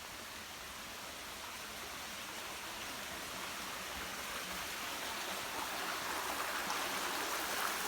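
Water flowing beneath a small footbridge in a garden, a steady broad rushing wash that holds evenly throughout and grows slightly louder toward the end, with no talk.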